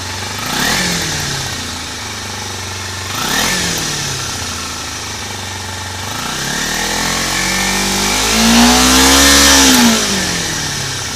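A Kawasaki Ninja motorcycle engine, not fully warmed up, revs loudly through its exhaust close by, with two quick throttle blips followed by a longer rising and falling rev near the end.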